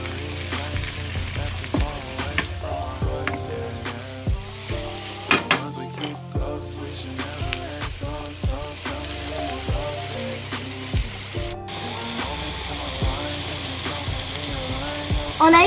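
Sliced mushrooms with a crushed garlic clove, salt and pepper fry and get stirred in a pan, a soft steady sizzle running beneath prominent melodic background music throughout.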